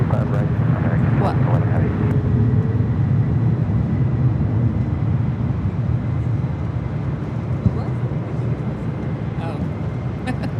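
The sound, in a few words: UPS Boeing 767-300ER freighter taking off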